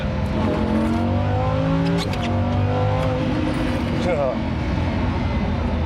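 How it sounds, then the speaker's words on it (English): A powerful car engine revs hard and climbs through the gears, loud and close from inside the cabin, a throaty roar rising and falling with brief tire chirps. "The engine sounds insane"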